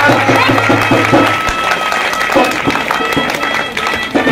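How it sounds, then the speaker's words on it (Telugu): Many people clap together during a Hindu cow worship ritual, a dense, continuous burst of applause heard close up and mixed with crowd noise. "నమస్కారం చేసుకొని చప్పట్లు కొడుతుండండి"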